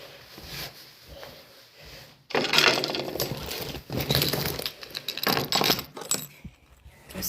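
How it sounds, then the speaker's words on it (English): Metal keys jangle close by, starting with a sudden burst partway through and continuing in several bright, clinking bursts, after a quieter stretch of faint rustling. "God, I hope they haven't taken the keys."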